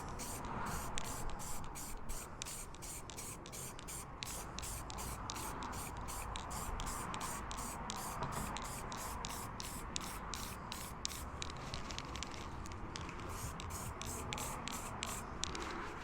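Light coats of paint are sprayed onto parts of a 1/6 scale RC Armortek Jagdpanther G2 tank model, a soft continuous airy hiss broken by rapid rhythmic short bursts, close and fairly quiet.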